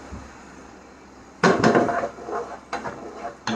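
Utensil scraping and clinking against a cooking pan while beans and vegetables are stirred, a few close clattering strokes after a quiet start, with scattered taps toward the end.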